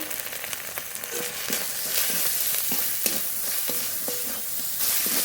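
Spice paste of ground cumin, ginger, salt and turmeric sizzles steadily in hot oil for a prawn malai curry, a dense close crackle with intermittent stirring scrapes and no talk.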